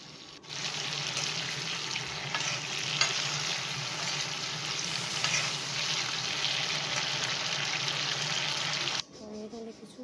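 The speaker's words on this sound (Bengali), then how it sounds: "ফুলকপিটা ফ্রাই হচ্ছে সুন্দর করে।" Cauliflower frying in a pan for a fish curry gives a steady, close, loud sizzle that runs unbroken for about nine seconds, then cuts off abruptly to a quieter, softer sizzle at the end.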